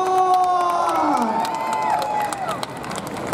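An audience at a Doraemon comic world launch event in a shopping mall claps and cheers, with lively crowd noise and whoops mixed over sustained applause throughout.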